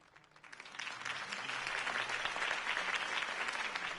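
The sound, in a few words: crowd applause after Harvey Dent's speech, from video game Batman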